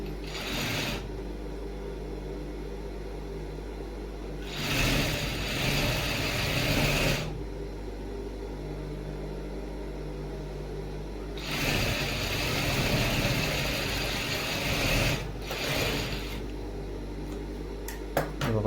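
A sewing machine stitches a 2-inch folded hem on a shirt sleeve, whirring and clattering in three separate runs with quieter pauses between them.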